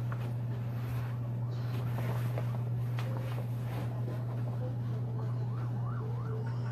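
An ambulance siren wails, rising and falling faintly in the distance over a loud, constant low hum and background noise.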